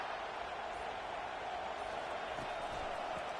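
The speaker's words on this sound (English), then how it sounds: "listen to this crowd roar" A stadium crowd in the NCAA 25 college football video game roars as a steady, dense wash of noise, continuous and loud throughout, with faint thumps beneath and a commentator's voice mixed in.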